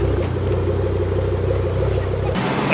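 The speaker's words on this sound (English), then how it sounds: "That's nice, an old RS Focus coming in." Old Ford Focus RS car arriving, a close, loud low engine rumble with a throbbing pulse that holds steady and then drops off sharply near the end, with faint voices nearby.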